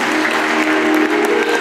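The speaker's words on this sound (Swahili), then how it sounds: "Tupatie makofi mazuri." Wedding guests in a church clap together in a dense, steady round of applause that holds at full strength throughout, with crowd noise mixed in.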